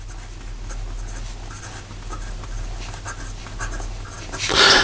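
A Montegrappa fountain pen with a medium 18 karat gold nib scratches softly across paper in short close strokes, faint over a low hum, ending in a brief louder rustle.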